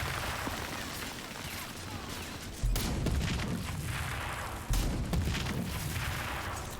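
Nuke cannon gunfire in the video game RAGE 2, a dense, continuous roar of shooting and rumbling with two heavy booming impacts a couple of seconds apart, loud and close.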